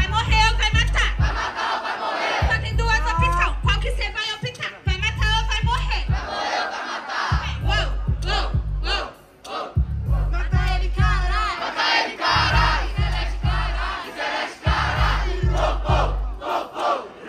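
A crowd at a Brazilian rap battle roars, chants and shouts over a thumping, rhythmic beat, with a loud, dense wall of voices rising and falling across the stretch.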